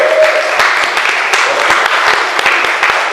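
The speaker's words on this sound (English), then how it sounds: "Come on, give her a clap." An audience claps for Sister Lily at a community support gathering: a dense, steady patter of hands, fairly close and even in loudness throughout.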